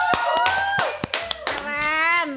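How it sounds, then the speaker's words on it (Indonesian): A few people clap their hands in short, uneven bursts at an indoor interview, mixed in with overlapping talking voices. "Tepuk tangan dulu Bu"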